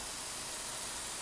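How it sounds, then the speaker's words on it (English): Steady airbrush spray of paint, an even broadband hiss held close and alone for its whole length with no break. "how much of the area you can spray"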